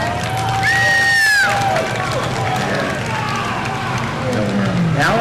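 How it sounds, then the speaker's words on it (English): Outdoor crowd at a car cruise festival applauding and cheering for a visiting classic car driver, a dense sustained wash of clapping and whoops with an announcer's voice carrying over it. "let's give him a round of applause."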